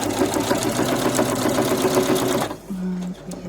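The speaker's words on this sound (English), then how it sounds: "Now I'm sewing on a sewing length of 3, just because I'm going through the fabric and the fleece" A sewing machine runs steadily at stitch length 3 through quilt fabric and fleece, a fast even mechanical whir for about two and a half seconds, then it stops and a soft low hum remains.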